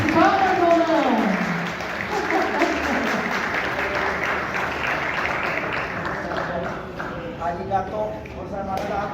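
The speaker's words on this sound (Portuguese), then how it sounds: "Merece palmas ou não?" Audience applause at a samurai sword-cutting demonstration by a Koryu Dojo, a steady crowd clapping throughout with voices and tonal sounds layered over it.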